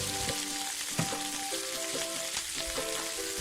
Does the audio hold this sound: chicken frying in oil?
yes